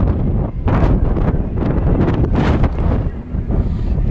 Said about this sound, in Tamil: உங்களுக்கு காற்றடிக்கும்னு நினைக்கிறேன்